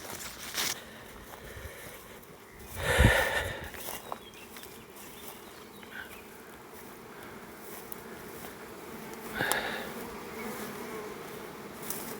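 A small swarm of honeybees by outdoor hives gives a steady, faint buzz throughout, with a couple of bees droning close past the ear.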